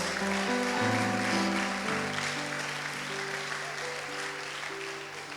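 A church audience claps steadily in sustained applause while music plays underneath, the clapping slowly easing off.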